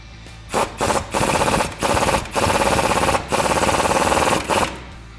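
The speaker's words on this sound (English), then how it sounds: "Now I'm going to grab my 19 socket and my swivel and tighten up the upper control arm." Impact wrench or ratchet tightening the upper control arm bolt with a 19 mm socket and swivel on a 2004-2014 Ford F150 during a front leveling kit install: loud, close bursts of rapid rattling hammering separated by brief pauses.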